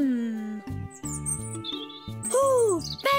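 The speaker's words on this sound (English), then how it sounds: "Ooh, baby birds!" Cartoon baby birds chirping in a nest, a lively run of high, squeaky tweets and rising calls over a bouncy musical backing, close and fairly loud.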